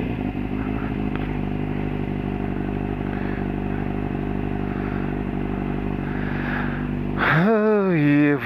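A Kawasaki Z750 motorcycle engine idles steadily and close, then revs up sharply near the end.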